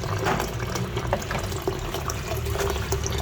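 Tomato and spring onion rinsed under a running tap, a steady splashing stream of water with small irregular spatters as the vegetables are handled, close and continuous with no talking.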